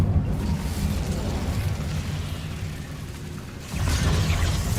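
A fire spell erupts in Hogwarts Legacy during a fight with a giant spider, a steady roaring burst of flame and low rumble lasting several seconds, swelling again near the end.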